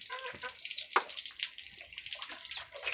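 A six-year-old child rinses dishes under running water, a faint, uneven trickle and splash with one brief clink partway through.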